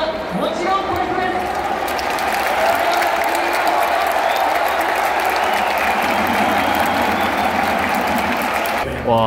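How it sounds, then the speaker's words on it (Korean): Baseball fans at the Tokyo Dome keep applauding after a Yomiuri Giants versus Rakuten Eagles game, a dense, steady wash of clapping filling the stadium, with a voice talking over it nearby. "근데 팬들이 다 가지 않고 이렇게 박수 쳐주고 있어요"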